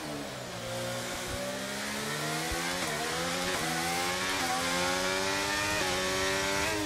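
Formula 1 race car in the F1 23 video game accelerates hard out of tight corners, its high-revving engine climbing repeatedly through short upshifts in a loud, continuous whine with no talk.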